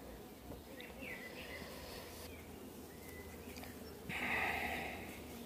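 A honeybee swarm at a hive visit makes a faint, steady buzz that swells briefly near the end, with low background noise.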